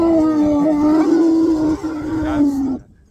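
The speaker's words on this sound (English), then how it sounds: "That's our elephant who made the sound." An elephant trumpets and rumbles during a jeep safari in Kaziranga National Park, a loud, close, sustained tonal call lasting nearly three seconds with a brief dip midway before cutting off.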